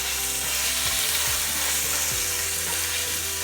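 Lo mein stir fry cooking in a hot pan, a dense, loud, unbroken sizzle close up, with a low steady hum and a few sliding tones beneath it and no talking.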